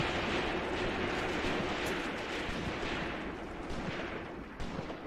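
Artillery rounds fall in the Graviteam Tactics war game, heard as a dense, continuous roar of distant gunfire and rumbling impacts with one sharper crack near the end.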